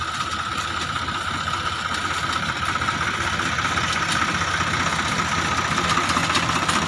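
A DSR seed sowing machine runs along a road, its engine giving a steady, continuous rumbling drone at close range.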